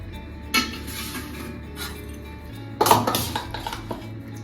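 Dishes and cutlery clink as a plate holding a fried egg is set out in a home kitchen, with a sharp knock near the start and a brief cluster of clattering contacts later, fairly close.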